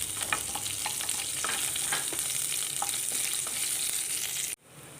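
Chopped ginger and garlic fry in a pan for an anchovy and banana flower stir-fry, an even, fairly soft sizzle dotted with small spatula taps, cutting off abruptly near the end.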